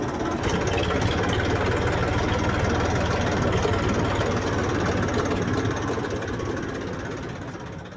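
A tractor engine runs steadily and close while the tractor is parked in a farm garage, a continuous low rumble that fades slightly toward the end.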